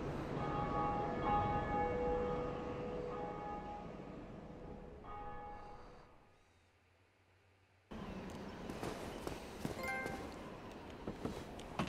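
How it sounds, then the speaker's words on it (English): A church bell rung in the video game Dark Souls Remastered, with sustained resonant tones decaying over several seconds before a near-silent gap and a burst of louder game noise. "Ring the bell on that church."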